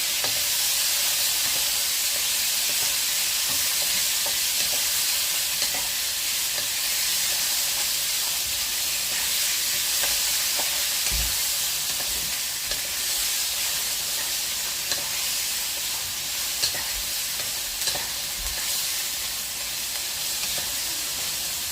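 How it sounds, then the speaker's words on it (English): Continuous loud sizzling of beef chow mein stir-frying in a non-stick pan, with occasional soft scraping and knocks from stirring, close and unbroken throughout. "You only want to fry this for about 30 seconds or so till it gets coloured."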